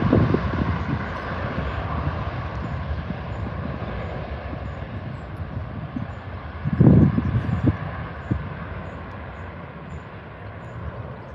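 Ryanair jet airliner taking off from Birmingham Airport, a steady broadband engine roar with wind buffeting, swelling briefly mid-way before holding at a constant moderate distance.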